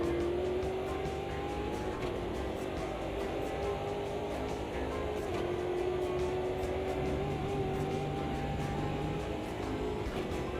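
Sim-racing engine from Automobilista 2: a steady, continuous drone of revving tones that shift and climb gradually as the car drives, with no talk over it.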